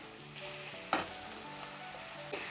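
Cluster beans frying in a pan, a quiet continuous sizzle with a soft clatter of stirring and a couple of brief scraping knocks, faint and close, without speech.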